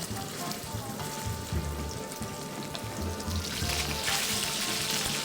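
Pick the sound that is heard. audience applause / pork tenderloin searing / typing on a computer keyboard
pork tenderloin searing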